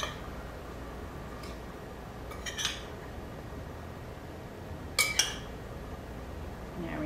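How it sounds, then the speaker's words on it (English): A metal spoon scoops flour into a mixing bowl while making chocolate cupcake batter: a few faint scrapes and clinks against the bowl, sparse and quiet, with a couple of brighter taps near the end. "I'm just gonna use a spoon and spoon about 1/3 in."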